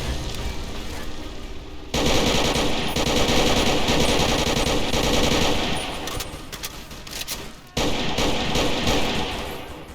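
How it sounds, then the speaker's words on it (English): Rapid sustained AK rifle fire in Fallout New Vegas, loud dense automatic bursts that run almost continuously, with a brief break in the middle and a short gap before the shooting resumes. "My AK rings true as Legionnaires fall one by one at the behest of fine Soviet engineering"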